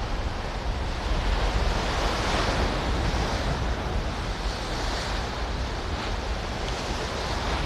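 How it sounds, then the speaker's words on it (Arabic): Steady, dense roar of wind and crashing sea waves on the Marsa Matruh coast, loud and continuous with heavy wind buffeting the microphone. "مش عارف بقى صوت الهوا ده باين ولا لا"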